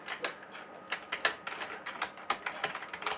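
Someone types a question on a computer keyboard into an MS Word document: a quick, uneven run of close, crisp key clicks with short pauses between bursts.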